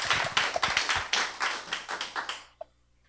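A small audience claps at an inspirational talk event, a fairly close burst of individual, distinct hand claps with an uneven rhythm, stopping abruptly near the end, followed by one stray clap and then quiet.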